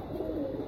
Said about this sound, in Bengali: তো এগুলো লাগামো কবুতর